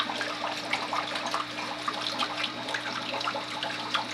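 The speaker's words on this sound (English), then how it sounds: "the flow from a hose will be a little bit less, I would say, stressful to the fish" Water from a hose pouring into an aquarium during a water change, a steady close rush and splash with continuous bubbling and no pauses, fairly loud and alone.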